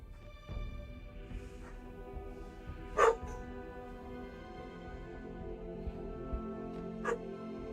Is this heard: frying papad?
no